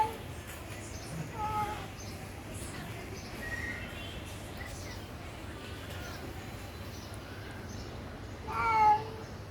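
A cat meows a few times at a distance, heard from a balcony, faint against steady outdoor background noise, with a louder call near the end.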